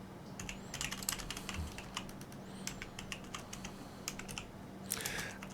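Rapid keystrokes on a computer keyboard type out a sudo snap install command, a quick irregular clatter of clicks heard close up with brief pauses and a heavier key press near the end.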